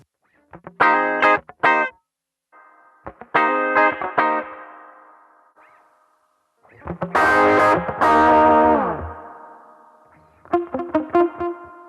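Electric guitar bursts played through effects pedals into a BOSS TU-88 tuner, distorted and chorused with echoing tails, separated by short silences; a thick sustained chord rings in the middle.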